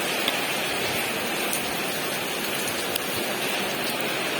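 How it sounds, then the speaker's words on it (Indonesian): Heavy rain falls in Jogja as a dense, unbroken hiss of a downpour, steady and fairly loud, with no voices and no clear gusts standing out. "sekarang cuma hujan deras"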